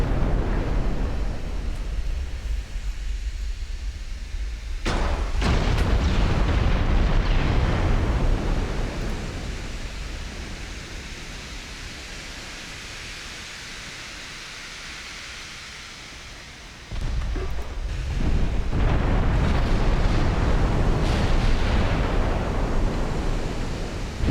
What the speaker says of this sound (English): Chunky hits from high explosive shells there.